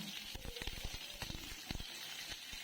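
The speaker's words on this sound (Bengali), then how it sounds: "ততক্ষণ আমি পটলটা কড়ার মধ্যে দিয়ে বেশ ভালো করে পটলটাকে নাড়াচাড়া করে ভেজে নেব" Pointed gourd (patol) pieces frying with turmeric and salt in a wok (kadai), a short burst of close sizzling with rapid scraping and stirring clatters, no voices.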